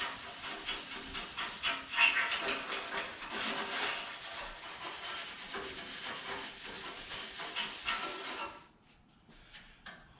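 Hand-scuffing an RX8 engine bay with Comet cleanser and a pad, a steady close abrasive rubbing and scrubbing that stops abruptly near the end, leaving faint rustles.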